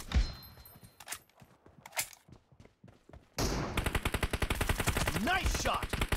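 Gunfire in the PUBG Mobile game: scattered single shots echo first, then a dense burst of rapid automatic fire rattles on loudly for several seconds.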